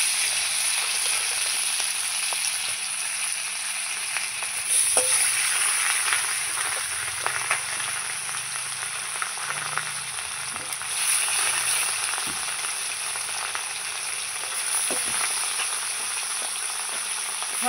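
Fish pieces frying in oil in a pan give a steady, even sizzle that runs unbroken, close and moderately quiet, with occasional faint clinks and shuffles of handling.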